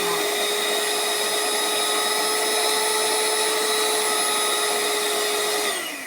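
Electric hand mixer running steadily at one speed setting: a loud, continuous whirring motor drone with a high whine, holding even and then slowing as it winds down at the end.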